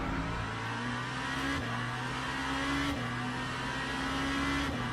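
LMP2 prototype race car in the game Le Mans Ultimate at Laguna Seca, a steady engine drone with repeated gear shifts and revving.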